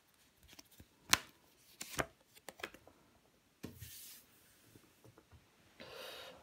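Tarot cards laid out and covered on a table, making a few soft, separate slaps and slides with quiet shuffling rubs between them, close and faint.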